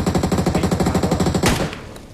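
An MG3 machine gun fires in BGMI as a fast, evenly spaced stream of loud, close shots for about a second and a half, then stops, leaving a fading echo.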